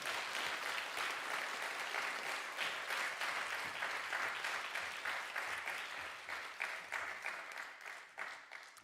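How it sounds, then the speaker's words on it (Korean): A Korean church congregation claps to welcome their pastor: steady, dense applause fills the room, then thins and tapers off toward the end. "우리 박수로 우리 목사님 환영합니다."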